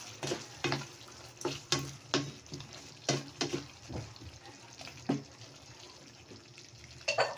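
Eggplant pieces go into a hot pan for kare-kare and fry, with a steady background sizzle broken by repeated sharp scraping and stirring clatters of a utensil against the pan.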